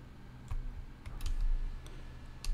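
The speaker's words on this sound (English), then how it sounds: "So as you can see, I'm using now the arrow keys." Arrow keys on a computer keyboard are tapped in a few quiet, scattered clicks, each short and crisp against faint low room hum.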